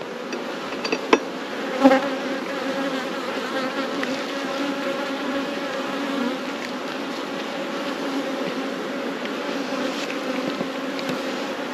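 A dense, steady buzz of many honeybees fills an open hive during an inspection, close and continuous, with a couple of faint knocks early on and no talking.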